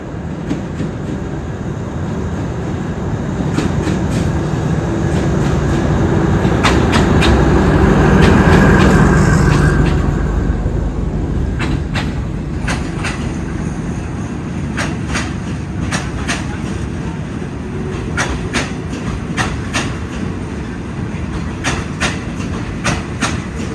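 Express train 85 hauled by a Hitachi locomotive, number 4516, passes on the Thai State Railway, heard from a footbridge above the line. A broad rumble builds to a peak and then fades into steady wheel clatter and rail noise. No voices.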